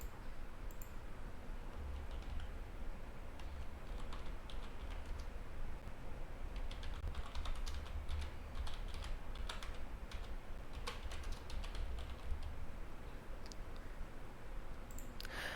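Fingers type on a computer keyboard in quiet, irregular bursts of soft key clicks over steady low background hum, close by and faint, with no talking.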